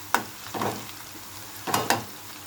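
Sliced onions frying in ghee for chicken biryani, heard as close, bursty sizzles that swell and fade in a few waves as the pan is stirred, with no voices.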